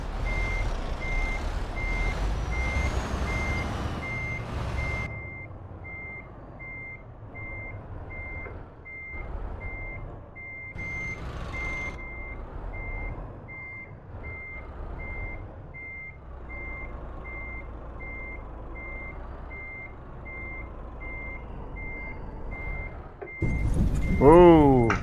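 A truck in Euro Truck Simulator 2 reverses to park its trailer, and a steady evenly spaced backup beep repeats for about twenty seconds over a low engine rumble. Air hisses near the end, and someone talks at times.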